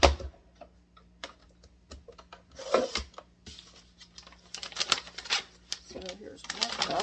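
Knife cutting rhubarb stalks on a board in sharp, irregular clicks and chops, close and crisp, with a person talking between the cuts.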